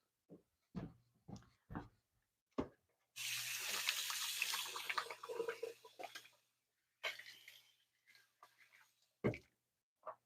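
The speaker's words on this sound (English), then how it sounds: "Let me wash my hands" A kitchen tap runs at the sink for hand washing, a steady rush of water lasting a few seconds that stops briefly and starts again. Someone talks before and after it over a low background hum.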